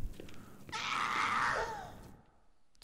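A zombie in Dead Rising 4 lets out a drawn-out, strained scream that swells and then fades over about a second and a half, heard at moderate distance against a quiet background.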